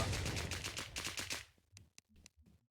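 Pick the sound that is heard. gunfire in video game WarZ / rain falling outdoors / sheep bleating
gunfire in video game WarZ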